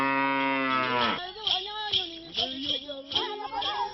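Cattle of the Karamojong herders, kept in clustered homestead enclosures, give one long, loud, drawn-out moo, followed by several shorter, rougher lowing calls and other stirring sounds from the herd.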